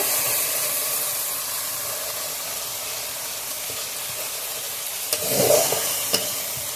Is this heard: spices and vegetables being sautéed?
yes